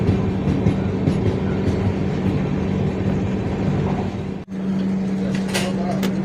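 A passenger train travelling between Mumbai's Lokmanya Tilak Terminus at Kurla and Chennai Central rumbles steadily along the tracks with a constant low drone and hum. A brief dip in the noise comes near the end.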